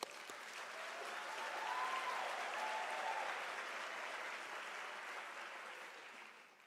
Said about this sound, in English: you deserve a firm round of applause